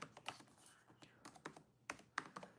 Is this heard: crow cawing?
no